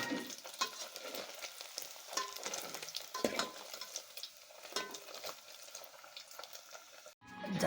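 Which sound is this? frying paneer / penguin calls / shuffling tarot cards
frying paneer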